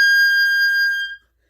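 A single high, pure oboe note near the top of its range, held steadily for about a second before stopping cleanly.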